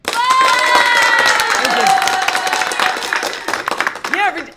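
An audience at a public meeting of the California reparations task force claps and cheers loudly, the applause fading after a few seconds while a voice speaks over it.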